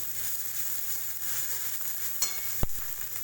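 Chopped ginger and green chili fry in hot oil with a steady, soft sizzle, broken by a brief sharp clack of stirring near the end.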